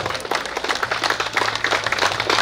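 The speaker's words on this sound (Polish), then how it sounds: "Gorące brawa dla pana Mateusza." An audience at a road cycling race award ceremony claps loudly and steadily, a dense, continuous round of applause with no pause.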